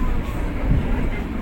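The Kencana train pulls into Mlingi station and comes to a stop, giving a steady, heavy low rumble that holds close and even throughout.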